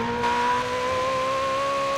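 A Ferrari 488 Pista engine revs in the racing game Forza Horizon 4, a loud, sustained tonal whine that holds high and edges slightly upward, with no talking.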